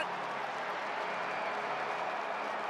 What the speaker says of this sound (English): That woke the crowd up.